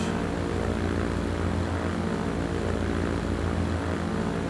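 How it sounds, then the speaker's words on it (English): A propeller airplane takes off in the Transport Fever video game, its engines giving a steady, loud, dense drone that fills the whole stretch without pause or talking. "Ride on board with the second plane as it takes off."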